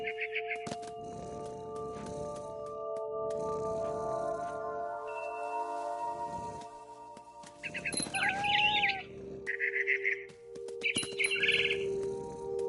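Short synthetic bird chirps and tweets from the video game What Remains of Edith Finch pop up between steady electronic tones and a low game-music drone, with bursts of brighter blips near the end.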